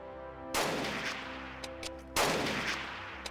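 Two separate loud gunshot blasts, spaced about a second and a half apart, from reaction fire in the turn-based strategy game Xenonauts, each followed by a rumbling decay over a faint droning background.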